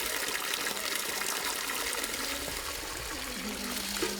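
Spring water flowing steadily at a cluster of village springs in Slakbash, Bashkortostan, a continuous close rushing gush with faint voices in the background.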